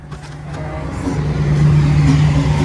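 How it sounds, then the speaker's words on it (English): Engine noise from a construction site near townhouses, a steady low rumbling drone that slowly grows louder, close and continuous with no talk. "Construction noise."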